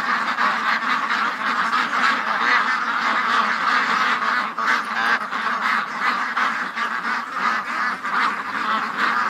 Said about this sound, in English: the ducks got all freaked out